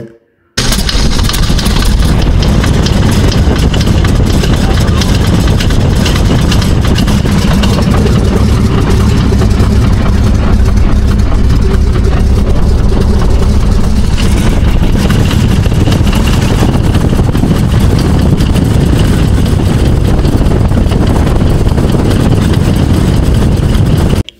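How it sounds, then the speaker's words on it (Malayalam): A biplane's engine starts up and its propeller spins, giving a loud, steady roar with a rough, throbbing texture. The sound begins abruptly and continues without a break for more than twenty seconds. "എൻജിൻ സ്റ്റാർട്ട് ചെയ്യുന്ന ആ വൈബ്രേഷൻ, പ്രൊപ്പലർ തിരിയുന്ന ശബ്ദം"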